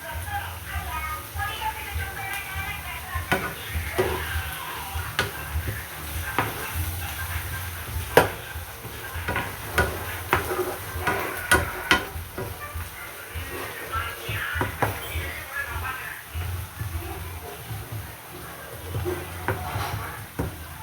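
Ingredients for chicken fried rice being stirred and sautéed in a pan over lowered heat, a soft sizzle under intermittent clinks and scrapes of the spoon, with a person talking throughout.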